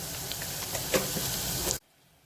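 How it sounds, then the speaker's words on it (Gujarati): Onions sautéing in a pan for a dhaba-style chana masala give a steady, close sizzle and crackle that runs for almost two seconds and then stops abruptly. "ડુંગળીને બરોબર સાતળવાની છે।"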